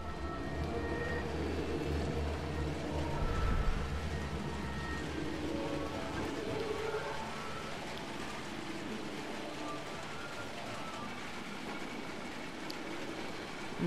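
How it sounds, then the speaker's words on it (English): Heavy rain pours in the video game Little Nightmares 2, a steady hiss of falling water with a low rumble, holding at an even level throughout with no one talking. "amazed that TV's still working with all the rain pouring on it."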